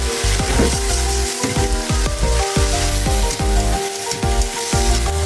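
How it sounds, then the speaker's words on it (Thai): Glass noodles stir-fried in a hot pan, sizzling loudly while a utensil scrapes and taps the pan in a quick, uneven rhythm. "คลุกให้เข้ากันในกระทะ"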